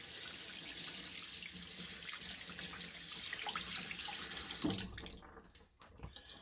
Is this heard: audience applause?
no